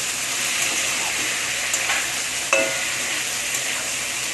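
Onion, tomato, slit green chilli and ginger frying in a pan, stirred steadily, giving a continuous close sizzle with a few scraping strokes and one sharper clink partway through.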